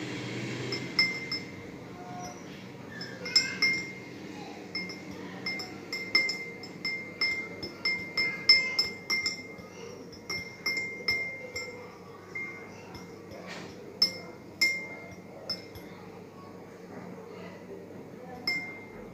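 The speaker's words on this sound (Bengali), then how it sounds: "লবণ দিয়ে আমরা নাড়াচাড়া করতে থাকি।" Repeated light clinks of a spoon stirring salt into water in a glass, an irregular run of small metallic chimes at close range over a low background hum.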